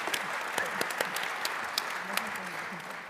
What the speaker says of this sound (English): I would like you to please give our presidents a big round of applause.